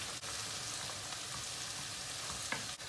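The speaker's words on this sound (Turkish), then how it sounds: "Yemeğimiz kaynamaya başladı." A Turkish chicken dish seasoned with red pepper flakes, black pepper and salt comes to a boil in a pot, making a faint, continuous bubbling sizzle.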